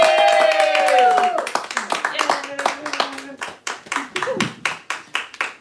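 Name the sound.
small audience clapping and applause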